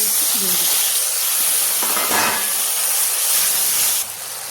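Water poured into a hot pan of fried onions gives a loud, steady steam hiss with brief spattering bursts, and a voice talks over it.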